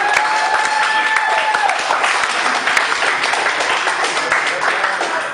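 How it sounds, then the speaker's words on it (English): Audience at a live comedy night in a club clapping steadily and loudly, a dense wash of applause mixed with cheers and voices that holds for several seconds before starting to thin. "Give yourselves a round of applause."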